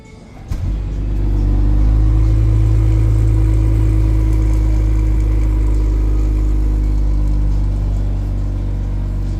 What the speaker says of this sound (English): The remote engine start.